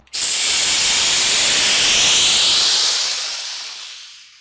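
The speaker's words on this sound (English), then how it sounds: "the goddamn steam. It's still fuming." A 3D-printed devil's toothpaste rocket engine vents steam in a loud, sustained hiss that bursts in abruptly and holds for several seconds, then slowly tapers off.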